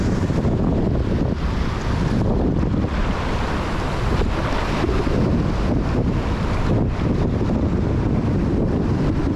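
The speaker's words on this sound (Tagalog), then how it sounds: "Hindi, lalaki ng alon dyan oh." Heavy, continuous roar of ocean surf with wind buffeting the microphone, loud and steady throughout with no pauses.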